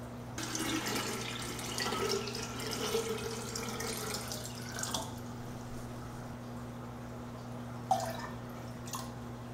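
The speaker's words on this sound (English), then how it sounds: "I'll simply top off my green water culture with the chlorinated water" Chlorinated water topping off an indoor green water algae culture, a quiet continuous pouring trickle over a low steady hum, ending with a few faint drips and clinks.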